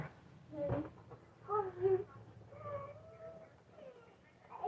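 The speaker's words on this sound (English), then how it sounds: "Marcy, you don't need to ask me to hug the cat. She's your pet" A pet cat meows a few times, short rising and falling calls at moderate loudness over a faint room background.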